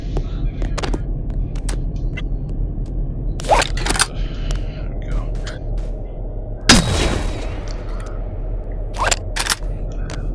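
A weapon firing in the video game BoneLab, a handful of sharp separate shots and one heavy booming blast spread over a low steady background hum.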